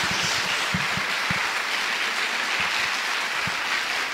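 A church congregation claps steadily together, a broad wash of applause filling the room with no voices standing out.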